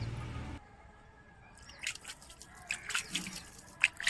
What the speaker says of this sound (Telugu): కొంచెం లైట్గా వాటర్ చిలకరించుకుందాం.